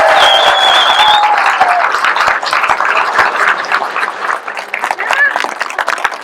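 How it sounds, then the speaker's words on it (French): Crowd applauding a local cyclist at a Tour de Bretagne town gathering, steady dense clapping throughout with a few whistles at the start, heard under an announcer's voice on a loudspeaker. "Bon d'applaudir, mesdames, messieurs, Pierre Thierry, le régional de l'État."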